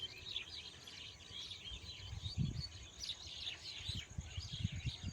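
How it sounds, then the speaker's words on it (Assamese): Myna birds call and chirp by a roadside paddy field after the harvest, a faint, busy chatter of many birds repeating in bursts over quiet, low outdoor rumble. "এয়া চাওকচোন কিমান অসংখ্য মানে শালিকী চৰাই আছে"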